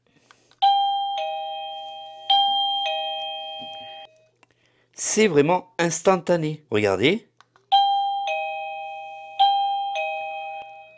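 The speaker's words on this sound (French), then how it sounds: "Je branche ma petite sonnette." A two-tone electronic chime from an Avantek wireless doorbell rings three times, clear and loud, then someone speaks briefly before the chime sounds three more times.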